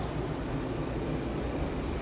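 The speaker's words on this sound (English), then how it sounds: "That humming noise you hear is the fan over the stove that I can't get to turn off" A stove range hood fan stuck on in an apartment kitchen gives a steady, even broadband hum and whoosh, constant and unchanging throughout with no voices.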